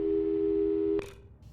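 A steady telephone busy tone in the video game Portal 2 hums continuously, then cuts off abruptly with a click, leaving faint background sound.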